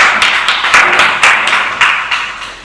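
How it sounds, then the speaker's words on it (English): Scattered clapping from a small storytelling workshop audience, a few close hands beating in uneven bursts for under three seconds with no talk over it. "Give him a round of applause."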